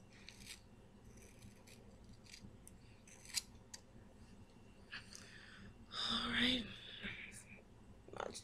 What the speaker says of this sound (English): I'm cutting it at an angle.